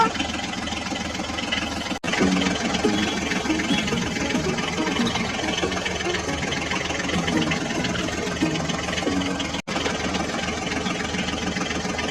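Engine hum of a toy auto rickshaw driving off, a steady mid-pitched idling drone that runs continuously with two brief cutouts.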